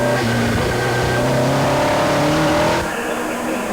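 Historic Cooper and Lotus race cars with narrow treaded rear tyres race at Oulton Park; a loud engine howls and shifts pitch as a car passes close, then the sound drops away sharply near the end.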